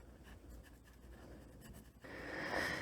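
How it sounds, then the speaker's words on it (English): A pen scratches across paper in quick, soft strokes at close range, quiet and intimate, with the scribbling growing denser and a little louder near the end. "I'll find a pen to write it, just so I can make a note of it"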